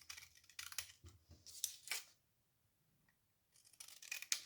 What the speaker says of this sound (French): je vais maintenant tout simplement découper sur les pliures